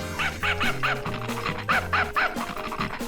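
A dog left out in the yard barks and yips in a rapid series of sharp, fairly loud bursts, with a low musical drone running underneath.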